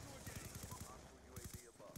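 Rapid bursts of automatic gunfire in a shooter video game, a quick run of evenly spaced shots followed by a second short volley, with game ambience running under it throughout.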